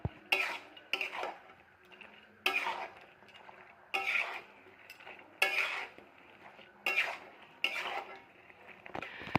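Fried cabbage pakoras being stirred into sauce in a pan, heard as about seven distinct scraping strokes of a utensil against metal, each with a short, sizzling rasp, spaced at a steady, unhurried rhythm.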